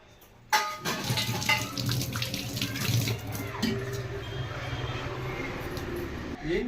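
Water pouring steadily from a water can into a container, a continuous splashing rush that starts abruptly and runs throughout, with faint voices in the background.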